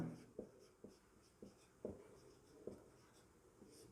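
Chalk or marker writing on a classroom board during a lesson, a series of quiet scratching strokes and taps at irregular intervals, close and faint.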